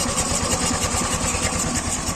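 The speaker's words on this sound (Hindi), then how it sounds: "क्लच की तरफ से साउंड आ रहा है इसके इंजन में" A Suzuki scooter engine with a faulty clutch runs steadily up close, its idling drone carrying a fast, regular rattling clatter throughout, with no talk.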